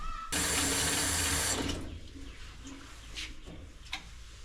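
Water gushes loudly from a newly installed workshop sink faucet for about a second and a half, then cuts off, leaving a quiet room with a few faint clicks and handling sounds.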